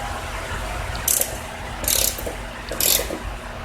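A ratchet tightens a 9/16 bolt on the mower deck beneath a 2002 Craftsman Tecumseh 4.25 HP engine, producing three short, close, bright ratcheting bursts spaced about a second apart over a low background hum.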